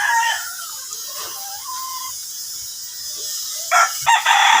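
Mixed flock of chickens and roosters kept in pens, a rooster's crow and clucking calls near and clear, followed by quieter hum and a few sharp louder squawks toward the end.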